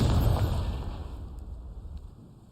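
A Confringo fire spell blasts in Hogwarts Legacy, a loud burst that booms at once and then rumbles and fades over a couple of seconds.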